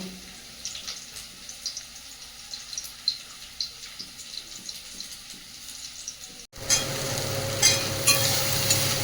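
Prawns, brinjal and potato frying together in a pan for a hilsa fish dish, a steady sizzle with scattered stirring scrapes that turns suddenly louder and denser after a brief gap near the end.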